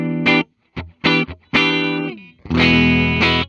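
Electric guitar on its neck pickup, a 2015 Gibson Custom L5-S, with a warm, rounded tone plays short bursts of chords and notes, separated by brief pauses, then a longer sustained strum.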